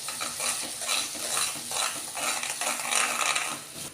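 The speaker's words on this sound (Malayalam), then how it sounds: "നന്നായിട്ടൊന്ന് മിക്സ് ചെയ്ത് കൊടുക്കുക." Garlic chutney with mustard seeds is stirred in a hot pan, a spoon scraping in a steady repeated rhythm over a continuous close sizzle, with no voices.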